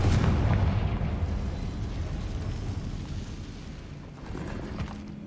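A Confringo fiery blast spell from the Hogwarts Legacy video game bursts with a loud, deep boom right at the start, then rolls off into a long, low rumbling decay, ending with a faint steady hum and no speech.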